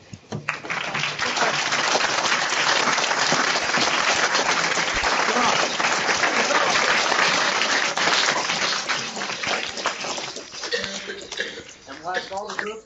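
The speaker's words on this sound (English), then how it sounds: "join me in giving a warm round of applause to Pro Football Hall of Famer Mr. Elvin Bethea." Applause for a Pro Football Hall of Famer, a dense, sustained wash of clapping lasting most of the stretch, with scattered voices and murmurs mixed in before it tapers near the end.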